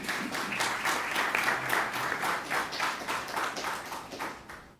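Steady audience applause from a studio crowd at a Haitian Creole radio and television panel broadcast, dense clapping sustained and fairly loud for nearly five seconds before fading out at the end.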